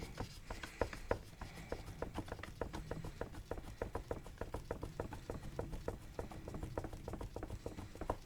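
Rapid, steady knocking and scraping of a wooden stir stick mixing satin enamel paint in a container, continuous rhythmic clatter up close with no voices.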